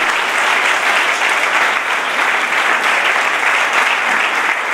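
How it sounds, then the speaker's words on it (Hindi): A church congregation at an Urdu worship sermon claps in steady, dense applause that stays loud and unbroken from start to finish. "हमारी तालियां उसके लिए,"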